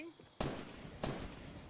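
Two sharp explosive blasts from a homing missile in Fortnite, the first at about 0.4 s and the second near 1.0 s, each followed by a rumbling decay under faint background game noise.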